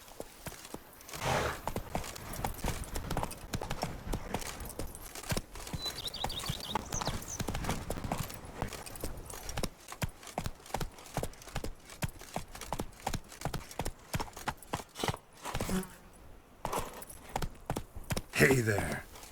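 A horse gallops in The Witcher 3, a quick rhythmic run of hoofbeats that stays fairly close and moderately loud, with brief voices and game sounds near the end.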